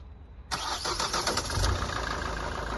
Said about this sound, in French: Vous allez démarrer le véhicule.